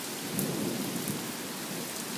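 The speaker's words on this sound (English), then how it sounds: "It was really storming." Morning thunderstorm with steady rain hissing and pattering, a low rumble of thunder rolling underneath, heard briefly and at moderate distance with no voices.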